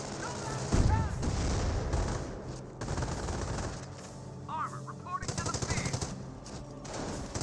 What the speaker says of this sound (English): 30 cal does start firing this Volksgrenadiers now.